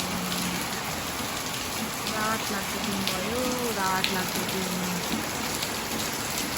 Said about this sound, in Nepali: आजको दिन चाहिँ पानी परेको गयो, कस्तो पानी परेको